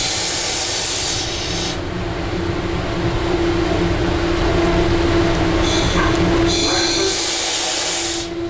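Steady rumble and rolling noise inside a moving commuter train between North Haven and Old Saybrook, with hissy bursts and rattles rising and falling, loud and continuous throughout.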